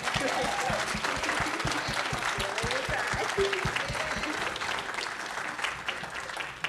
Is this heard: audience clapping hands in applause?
yes